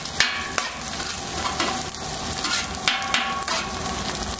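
Eggs sizzle and fry on a Camp Chef flat top griddle, a close, steady crackle broken by scraping spatula taps and clacks.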